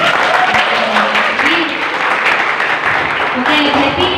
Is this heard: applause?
yes